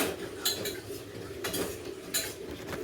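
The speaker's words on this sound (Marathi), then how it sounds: "हे सर्व मसाले मिक्स करून घेते" Spoon scraping and clinking in a pan as spices and gram flour are mixed into arbi, several distinct scrapes at a steady pace, close and fairly quiet with no talk.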